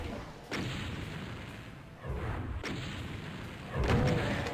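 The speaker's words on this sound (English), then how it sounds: "I think I take out the rocket launcher and I try to just dispose of these 2" Rocket launcher fire in DOOM on the Shrine of Moss map: three booming blasts spaced about 1.5 seconds apart, each followed by a rumbling tail, the last the loudest.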